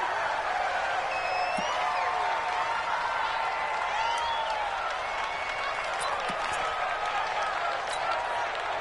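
Large stadium crowd at a Patriots versus Ravens NFL football game, a steady roar of applause, cheering and chatter filling the space at constant loudness, with scattered whistles over the din.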